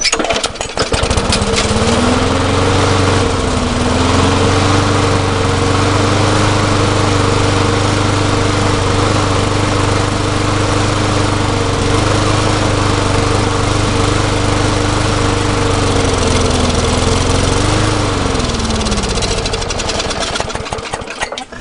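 A neglected lawn mower engine runs steadily and loud on its own for about twenty seconds, its pitch rising and sagging in slow surges as the speed hunts up and down, with a faint knocking undertone, before it winds down at the end.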